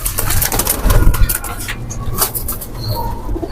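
Pigeons make soft, low cooing calls close by, with rustling and fluttering mixed in and no talking.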